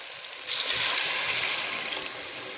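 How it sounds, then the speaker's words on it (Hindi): Two cups of water poured into a pot of chana and maash lentils for dhaba-style dal, a steady splashing rush that rises after a moment and continues without talk. "तो इसके अंदर पानी डालेंगे और पानी डालेंगे हम इसमें 2 कप"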